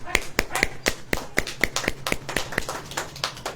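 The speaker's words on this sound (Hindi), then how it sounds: "ऐसे ऐसे ताली ऐसे बजती है।" Bare hands clap about a dozen times in a quick, fairly even rhythm, each crisp and close, demonstrating how to clap during a church gathering.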